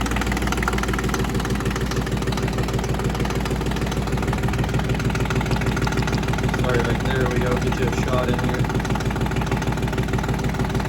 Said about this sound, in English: So idling nice now